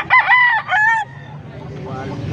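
A six-month-old stag rooster crows loudly and close, a single cock-a-doodle-doo in two bursts, followed by low background murmur and faint farmyard noise.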